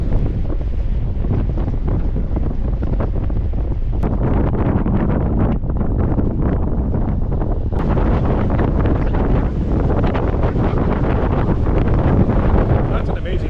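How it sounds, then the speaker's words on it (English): Strong, gusty wind in Finland buffets the microphone with a constant loud roar, with faint voices and a water-like wash mixed underneath. "And it's very windy again."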